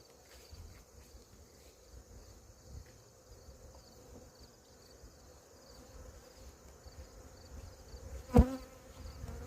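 Honeybees buzzing around an open hive during a beekeeping inspection, a steady low droning swarm close by, with a brief knock or handling sound near the end.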